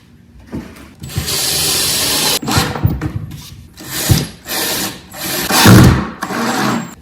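A power drill drives small-headed deck screws into wood, several loud whirring bursts rising and stopping in turn, each ending as the screw seats, close by.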